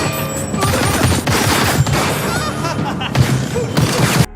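Gunfire from a duel between hitmen in a film, a dense, continuous stretch of loud shots and booms with crashes throughout, no pauses, ending abruptly.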